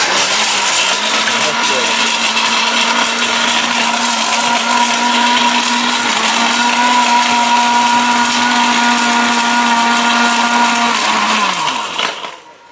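A heavy-duty steel-bush blender grinds a hard brick to powder. Its motor gives a loud, steady high whine with gritty rattling for about twelve seconds, then winds down abruptly at the end.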